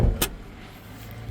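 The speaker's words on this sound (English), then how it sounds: "pop the hood" A car hood release gives one sharp pop close by, followed by a low quiet rumble of the vehicle interior with no talking.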